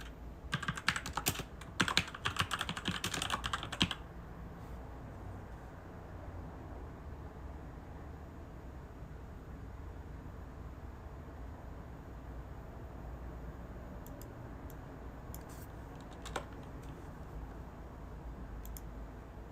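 A computer keyboard clatters in a quick burst of close typing at the start, then the room goes quiet under steady hum, with a few isolated mouse or key clicks later on.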